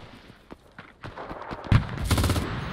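Bursts of MG42 machine gun fire in the video game Enlisted, rapid rattling volleys building in intensity toward the end, with a dense sustained burst over continuous battlefield noise.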